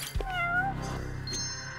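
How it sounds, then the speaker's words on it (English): A cat in the video game Judgment lets out a clear, drawn-out meow that rises and falls, close and fairly loud, followed by a short trailing sound. "Right, here the cat. Uh-huh. Oh! Kitty cat."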